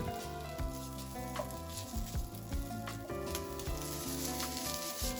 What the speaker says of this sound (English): We'll cook in 2 batches to keep the pork frying rather than steaming.